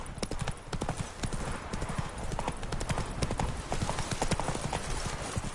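The horse Roach galloping in the video game The Witcher 3, with rapid, rhythmic hoofbeats pounding continuously and loudly from start to finish.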